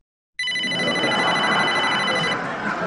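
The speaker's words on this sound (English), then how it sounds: "My phone was ringing" A phone rings in an office setting, a steady electronic ringtone with stacked bright tones that starts abruptly and holds loud and continuous, close by, with no talk over it.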